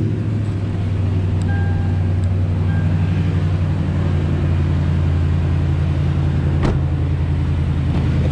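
A lifted 2013 Toyota Tundra TRD crew cab 4x4 engine runs at a steady, close, loud low rumble throughout, with one brief clunk near the end and no talking.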